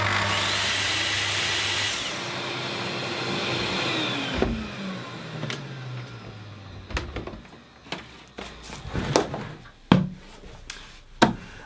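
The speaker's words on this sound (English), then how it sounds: "the venerable little Festool shop vacuum" A small Festool shop vacuum, kept under a workbench for about ten years, roars loudly for a few seconds after auto start, then winds down with a falling whine, followed by scattered knocks and clatter of tools in the workshop.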